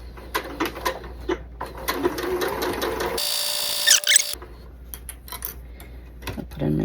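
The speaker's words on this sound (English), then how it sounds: "So I'm going to place my presser foot 1/4 inch away from my diagonal line, going to back stitch," A sewing machine runs in short bursts while back stitching quilt block squares, with a rapid mechanical whir, a brief burst of noise midway, then quieter clicks and taps.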